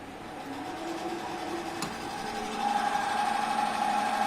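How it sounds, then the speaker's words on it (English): A DC shunt motor starts up and runs steadily, a continuous whirring hum with a tone that rises as it gathers speed and then holds, joined by a brighter whine after a brief click partway through. "So I am starting the motor."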